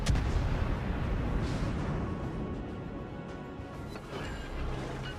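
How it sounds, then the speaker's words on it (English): Naval guns fire high explosive shells in the warship video game World of Warships, a dense rolling roar of booms and rumbling impacts that stays loud and continuous throughout, with no voices. "So I do manage to hit him with a couple high explosive shells"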